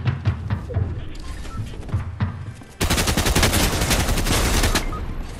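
Gunfire in the video game Fortnite: scattered shots at first, then a sustained, loud burst of rapid automatic fire filling the second half, with a little player talk underneath.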